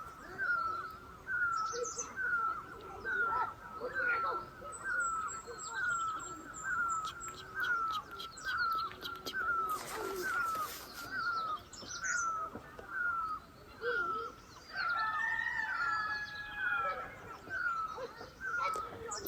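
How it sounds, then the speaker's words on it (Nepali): Birds among rhododendron trees sing and chirp, one repeating a sharp call at a quick, steady pace while others answer with scattered tweets and cries nearby. "कस्तो मजाले कराएको छ है चरा"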